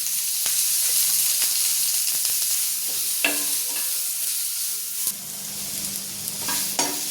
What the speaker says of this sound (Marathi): परत कांदा आणि टमाटो 5 मिनिटं भाजायचं। थोडंसं तेल भी टाकून घ्यायचं।